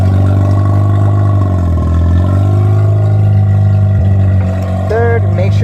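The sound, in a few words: engine running while shifting through gears after clutch job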